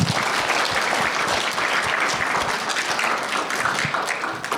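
A young audience at a children's author talk claps in a dense, sustained round of applause, fairly close and steady, with no talking over it.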